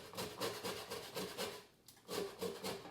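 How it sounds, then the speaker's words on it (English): Orange rind being grated on a kitchen grater for a chocolate orange cake, a quiet, steady rasping in rhythmic strokes with a brief pause midway, no talk. "get your grater and just grate all the rind off of it"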